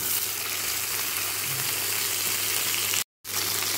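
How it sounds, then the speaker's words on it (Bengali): Okra being added to potatoes already frying in a pan gives a steady, close sizzle with no talk. The sizzle stops for a moment near the end and then comes back. "আলুগুলো হালকা ভাজা হয়ে গেছে, এবারে আমি দিয়ে দেব কেটে রাখা ভেন্ডিগুলো।"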